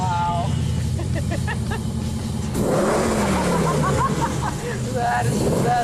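Custom car built in an old-school style roars to life at the push of a start button and revs loudly up close, the engine's deep rumble rising and falling while people talk excitedly over it.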